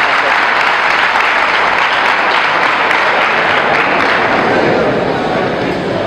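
A large audience at a 2019 Students Representative Council public lecture breaks into loud, dense applause, a thick continuous roar of clapping that stays strong throughout, with a voice faintly mixed underneath.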